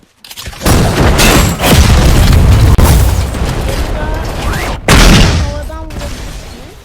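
Loud, booming blasts and rumbling explosions with crackling bursts, a sharp new blast near the end, from the Roblox game The Strongest Battlegrounds, with faint voices underneath.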